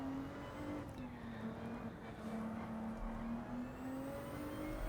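A race car engine in the Gran Turismo 7 video game hums steadily at a constant level, with its pitch rising and falling gently through a corner on a track at night.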